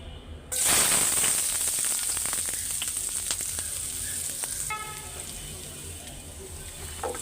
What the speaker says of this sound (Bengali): তেল গরম হয়ে গেছে ভাজিটা আগে বসায় দিই